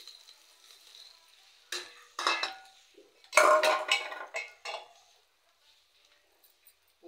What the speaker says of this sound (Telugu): ఇప్పుడు రవ్వ వేసేస్తున్నాను.